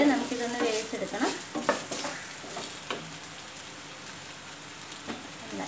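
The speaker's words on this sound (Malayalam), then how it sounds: "ഞാനൊരു പാനിൽ ആവശ്യത്തിന് എണ്ണ ഒഴിച്ചിട്ട് ഈ ഉരുളക്കിഴങ്ങ് ഒന്ന് ഫ്രൈ ചെയ്ത് എടുക്കുകയാണ്" Potatoes fry in oil in a pan, a crackling sizzle with irregular stirring clatter early on, settling into a steadier quieter fry toward the end.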